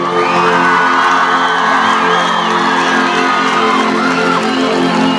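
A live crowd at an outdoor reggae concert in San Juan cheers, whoops and applauds loudly and steadily for the keyboardist, with shouts rising out of a dense, continuous roar. Music plays underneath.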